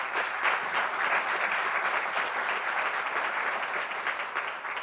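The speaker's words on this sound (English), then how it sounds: "let's give them all a round of applause" Dense audience applause at a climate solutions presentation, steady even clapping from a room of people for about five seconds, fairly loud and continuous throughout.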